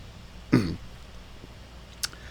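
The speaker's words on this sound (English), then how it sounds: "let me clear my throat" A single short throat clearing, close and fairly loud, followed by a faint sharp click a moment later, otherwise quiet.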